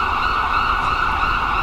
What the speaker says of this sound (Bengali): তারপরেই সাইরেনের শব্দ, পুলিশের গাড়ি।